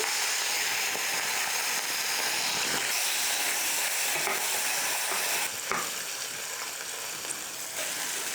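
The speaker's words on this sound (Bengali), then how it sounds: "মাখানো হয়ে গেছে এখন হালকা ভেজে নেব কড়াইতে তেল দিয়ে গরম করে নিয়েছি" Marinated bojuri fish fries lightly in hot oil in a kadai, giving a loud continuous sizzle and crackle with occasional spits and pops over the full stretch.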